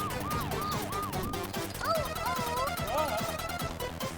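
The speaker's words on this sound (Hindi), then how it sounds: "एम्बुलेंस आ गई।" An ambulance siren wails in rising and falling tones in a toy doll play scene, strongest early on, over a busy, dense background.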